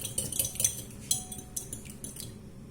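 Eggs are whisked in a large salad bowl, the whisk giving quick, light clinks and scrapes against the bowl in an irregular rhythm, close and fairly quiet.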